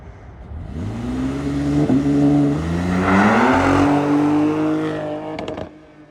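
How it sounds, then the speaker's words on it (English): A 2025 Ram 1500 RHO pickup's deep exhaust, through 5-inch tips, rumbles and revs up, rising in pitch and loudness, holds, then settles back down, close and with no talking. "One of the big things people may be concerned about is the exhaust note."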